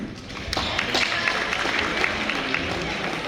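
An audience at a track and field banquet claps in steady, sustained applause, a dense roomful of hands with no standout voices.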